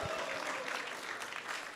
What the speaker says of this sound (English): So let's give a big round of applause and thank him.